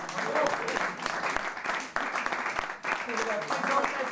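Audience applause at an evening book presentation held by a cultural association, a dense steady patter of many hands clapping that stays loud across the whole stretch, with voices mixed in beneath it.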